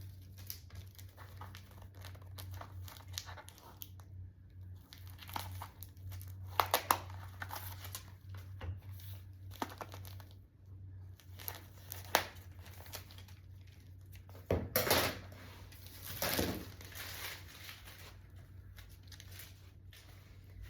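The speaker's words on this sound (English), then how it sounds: "I'm gonna cut all the plastic off." Plastic wrapping is cut and peeled off spools of ribbon, making quiet crinkling and rustling with occasional sharper tearing snaps, close but soft over a low background hum.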